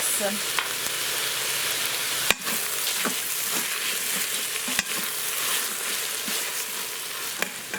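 Lo mein noodles stir-fried and tossed in a hot pan with chow mein seasoning, a steady sizzle broken by sharp scrapes and clacks of a utensil against the pan, close up with no voices.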